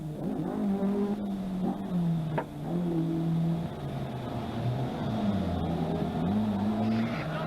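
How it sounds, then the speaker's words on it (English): Rally cars of the 1982 Cork 20 Rally drive over a bumpy crossroads, engines droning and shifting pitch continuously, fairly close and loud, with a faint voice underneath. "all these cars over this rather bumpy crossroads"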